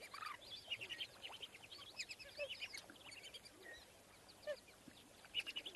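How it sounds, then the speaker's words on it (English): Shelducks call in a faint, busy chorus of short honking and whistling notes, scattered and overlapping at a distance, with occasional sharper calls standing out. "And so, yes, those are shell ducks."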